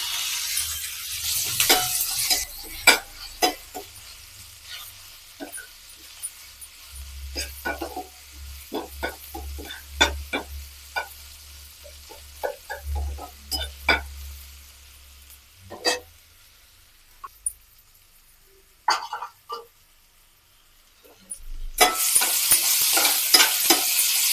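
Chopped tomato stirred into sautéed onions in a pan for prawn masala, with irregular spoon scrapes and clinks over a low sizzle, louder frying bursts at the start and end, no talking.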